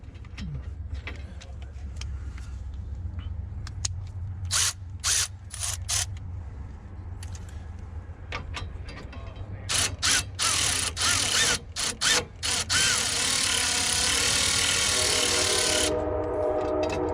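Power tool whirring and ratcheting in repeated bursts, running bolts down snug on a 2022 Ford Maverick pickup, with a longer continuous run near the end and mechanical clanks in between.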